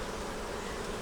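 Honey bees festooning on foundation frames inside a sugar-syrup-fed hive make a close, steady, dense buzz throughout.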